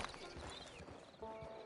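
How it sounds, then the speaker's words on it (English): Horse hooves clip-clop steadily in Red Dead Redemption 2, a rhythmic series of close, clear hoofbeats over a busy game soundscape, with a short tonal chime near the end. "Get on the horse there."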